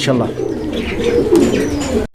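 Soft, low cooing of fancy pigeons at a pigeon sale in Bangladesh murmurs steadily with faint chirps and a rustling background, close by, briefly cut off near the end.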